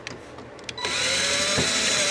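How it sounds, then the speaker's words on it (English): A power drill starts up and runs steadily as it drives a screw into the arm panel of an Osaki OS-7200H massage chair, a loud close whine that holds after a few faint clicks. "And then we'll take our drill,"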